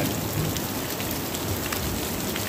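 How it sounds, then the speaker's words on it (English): Heavy rain pours down steadily during a flooding downpour, a loud, dense, continuous hiss and patter on surfaces with no voices. "we're getting some rain"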